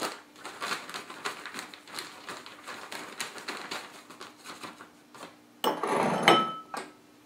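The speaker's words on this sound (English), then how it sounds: "I have a wire whisk, and I just take it and kind of mix it in there a little bit" A wire whisk stirs dry gluten-free millet oat bread mix in a bowl, giving rapid rhythmic metallic ticks and scrapes, close and fairly quiet, ending in a brief louder clatter of handling.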